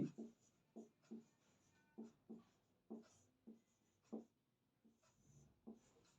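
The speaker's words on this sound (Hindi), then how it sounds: "ऐसे मैं लिखता चलूंगा।" Pen writing notes on paper in a quiet room: a series of short, faint scratching strokes in an uneven rhythm, each a quick burst followed by a pause.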